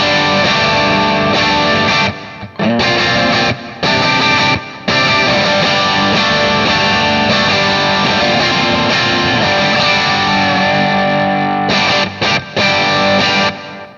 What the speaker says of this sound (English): What if I want to hear this amplifier with just a 57?